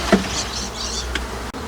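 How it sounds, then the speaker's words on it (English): Honeybees buzz loudly and close as they are shaken from hive frames into a Flow Hive, a thick swarming drone with a sharp knock or two of wood. "I'm just going to shake the bees off"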